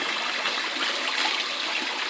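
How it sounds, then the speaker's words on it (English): Tap water running over and overflowing a pot of rice being rinsed, a steady close splashing rush with no break. "what I usually do is just let the water overflow. Gets the starch out of the rice."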